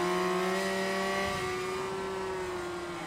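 A racing car engine roars through a gear in a close battle with a Honda at Catalunya in a racing video game, its steady high drone dipping slightly as the pitch eases.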